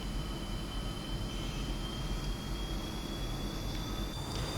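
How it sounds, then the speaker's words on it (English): A JF-17 Thunder jet fighter's engine throttles up as it rolls down the runway, a loud, continuous, steady roar with a faint high whine on top and no talking. "now we are going to roll this aircraft down the runway. We're going to just give it a throttle."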